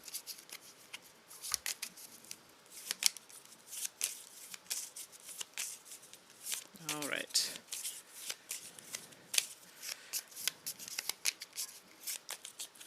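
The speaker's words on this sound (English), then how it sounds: "I'm giving it a good shuffle, everybody" Deck of cards for the Undaunted: North Africa board game given a vigorous shuffle, a quick riffle burst in the middle among dense crisp card flicks and handling, close up, with someone talking intermittently.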